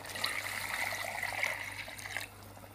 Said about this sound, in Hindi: अब इसके अंदर मैं 1 kg पानी डाल रहा हूँ